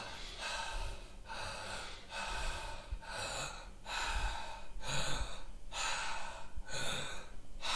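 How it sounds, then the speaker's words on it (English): Deep connected oral breathing repeats in a steady rhythm of about seven forceful, audible breaths. Each inhale runs straight into the exhale with no pause, heard close and alone. "It's just what we call a deep connected oral breath. So it's a breath in and a breath out without a pause in between them."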